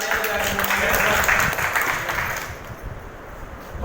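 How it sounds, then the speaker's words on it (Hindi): An audience at a business meeting claps in a dense, loud burst that fades toward the end, with a few voices mixed in. "एक बार जोरदार शब्दों से बोले हुए तालियां बजाएं।"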